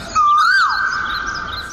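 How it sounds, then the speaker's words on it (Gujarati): An Asian koel gives a single loud, clear whistled call that rises and bends before holding steady, heard up close over a quiet background. "કોયલ ટહુકે છે."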